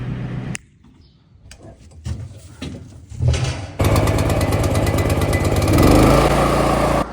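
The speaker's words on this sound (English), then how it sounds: "the power washer." A power washer for cleaning farm gutters starts up loud and steady after a few seconds of quieter knocking and handling, then runs continuously with a dense engine-driven roar.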